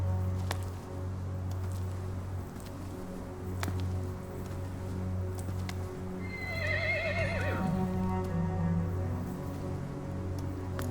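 A horse gives one long, wavering whinny partway through, moderately close, over a steady low rumble of background ambience with faint rustling and no talk.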